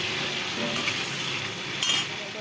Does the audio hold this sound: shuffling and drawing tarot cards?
no